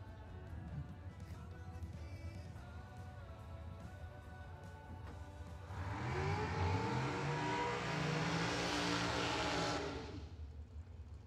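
Dragsters launch and accelerate down a drag strip at a Christmas bracket race, a loud rising engine roar building after a quieter stretch, heard from a distance and then fading.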